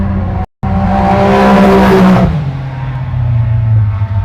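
A Can-Am X3 race car in an SGORA off-road race roars past close by, its engine note rising then dropping away with a brief dropout early on and a steady engine drone continuing after the pass.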